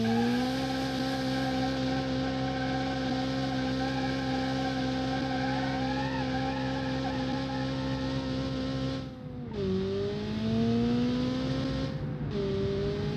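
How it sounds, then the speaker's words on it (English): Video-game car doing a burnout, with a loud, sustained engine drone and squealing tires, rising pitch sweeps and brief dips as the revs shift, no speech over it. "Try do a burnout again."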